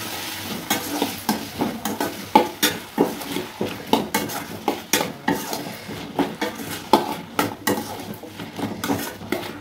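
Raw banana pieces frying in a pan while being stirred, a soft sizzle under a steady series of close scraping and knocking strokes of the spoon against the pan, repeating roughly every half second.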